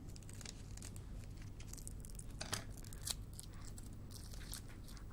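Scissors trimming extra plaster for stencil printing, giving soft, close snips and crinkling over a low steady hum, with a couple of sharper cuts standing out.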